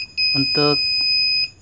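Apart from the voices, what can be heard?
car parking sensor warning beep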